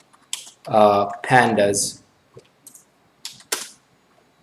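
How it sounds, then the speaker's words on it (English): A few sparse keystrokes on a computer keyboard, typing a pip install command into a terminal, follow a short burst of nearby speech; the taps are light, close and spaced apart. "So now we can type pip install"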